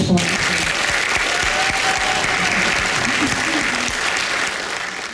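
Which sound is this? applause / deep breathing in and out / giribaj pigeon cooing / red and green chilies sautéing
applause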